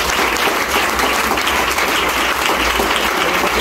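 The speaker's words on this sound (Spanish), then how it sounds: "eso se merece un fuerte aplauso a Cristo" Loud, dense applause from a church congregation during a pastor's sermon fills the space as a continuous, even roar of clapping with no pauses.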